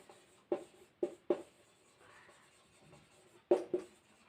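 Writing on a board during a geometry lesson on angles: a handful of short scratchy strokes, with three close together early on and two more near the end, heard without talk.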